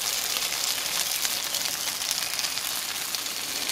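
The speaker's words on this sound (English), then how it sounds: "I love that crisp thing that's gonna form right now on that cheese" A dense, even sizzle of cheese crisping in a hot frying pan, continuous and close, with no talking.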